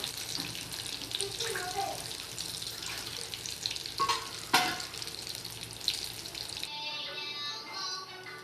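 Baingan (eggplant) frying in hot oil, a close continuous sizzle with scattered clinks and stirring noises, then a quieter stretch with faint talking near the end.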